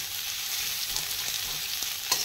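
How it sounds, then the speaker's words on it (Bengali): Chicken frying in an iron wok while being stirred, with a loud continuous sizzle and occasional soft scraping taps of the utensil, no voices. "ভালো করে নেড়ে চেড়ে নিয়ে লোহার কড়াই করলে কম তেল লাগে"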